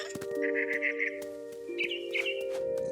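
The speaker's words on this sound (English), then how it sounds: "All I cared about was eating that mama bird." Mother bird in the video game What Remains of Edith Finch gives two bursts of rapid, trilling chirps over a steady tonal game soundscape, the first longer, the second shorter, both close and fairly loud.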